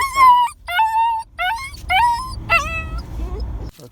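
An injured Kangal dog whimpering and yelping in pain, five or six high, wavering cries in quick succession, loud and close, over a low rumble of background noise.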